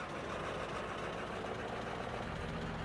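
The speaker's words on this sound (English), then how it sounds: "It idles rough, but it's got plenty of grunt." A truck engine idles rough in Farming Simulator 22, a steady low grumble with an uneven, knocking pulse that runs without a break at moderate loudness and has no talk over it.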